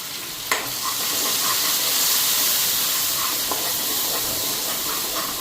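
Spice paste (masala) seasoned with salt and turmeric frying in a pan gives a steady, close sizzle and hiss that carries on evenly throughout, with no talking.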